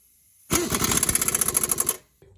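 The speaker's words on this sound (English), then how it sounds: "Once they're both started, I'll hit them with the air gun." A pneumatic impact gun hammers on brake bolts of a Jeep Cherokee Trailhawk during a front brake and rotor job, firing one loud, close burst of rapid ratcheting blows for about a second and a half.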